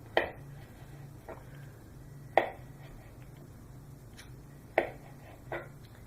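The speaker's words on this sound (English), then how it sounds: "then we're going to cut small slices of this one" A knife slicing an orange-fleshed ingredient into small pieces on a board in a home kitchen, giving a few sparse, sharp taps spaced seconds apart over a low steady hum, with no talking.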